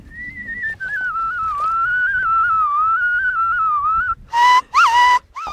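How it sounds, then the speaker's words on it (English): A cattle herder whistles to the grazing herd outdoors: one long, wavering, sustained tone held for about four seconds, then two short, louder bursts of sharp, breathy whistling, with no speech. "We normally whistle because it's just like communicating with the cattle so that they can graze very well."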